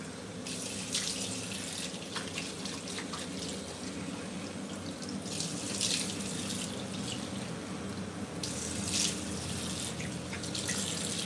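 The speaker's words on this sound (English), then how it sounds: "when you wash your face to prepare for a shave, use water" Hot water running from a bathroom tap for washing the face before a shave, a steady close splashing stream that briefly grows louder at a few moments as hands break the flow.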